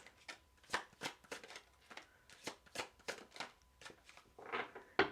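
Tarot cards are shuffled and drawn in quick rustling, riffling bursts, close and soft, repeating rhythmically with brief pauses and no talking.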